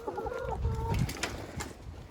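Ducks in their farm enclosure beside dirty water, giving short bird calls and clucking squawks at close range, with low background noise and a few brief bursts, no talking.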